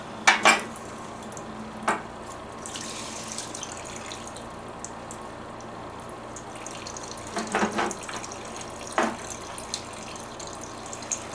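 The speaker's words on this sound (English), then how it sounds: "gas still going into the pan there" Gasoline drains from a Massey Ferguson lawn tractor into a pan, a faint steady trickle with a few clinks and knocks against the metal.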